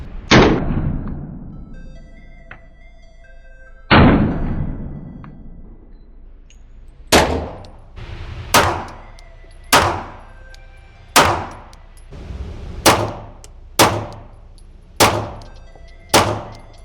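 Glock pistol fitted with a Harrington Arms compensator fires about ten loud, sharp gunshots, each with a ringing decay. Two widely spaced shots open the sequence, then a steady string follows at roughly one-second intervals.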